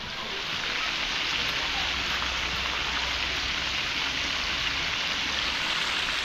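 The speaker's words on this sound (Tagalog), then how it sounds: "Grabe ulan." Heavy rain pours down in a dense, unbroken hiss, loud and close, with a low rumble beneath and no speech over the steady downpour.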